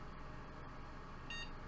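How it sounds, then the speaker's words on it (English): A single short electronic POST beep from a desktop computer powering up near the end, thin and high, over a quiet background hum. "got a beep"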